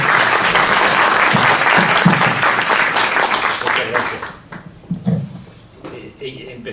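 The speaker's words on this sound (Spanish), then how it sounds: "un aplauso para Gilberto" An audience at a book-presentation event for a novel and poetry program breaks into loud applause for a speaker, a dense clapping wash that fades out after about four seconds, leaving scattered claps and murmurs.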